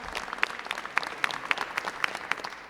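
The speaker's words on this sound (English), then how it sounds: "Can we give them a round of applause?" Scattered applause from an audience at a Pennsylvania budget priorities event, honoring state representatives; claps come in distinct separate bursts, moderately faint with a roomy background.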